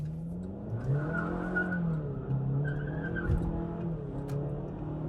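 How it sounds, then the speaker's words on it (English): A Cadillac corners fast, its tires squealing in a sustained, wavering whine over a steady engine drone, close and continuous. "Let's go around this turn fast."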